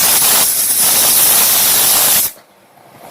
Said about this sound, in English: cap shut the cooker till 2 whistles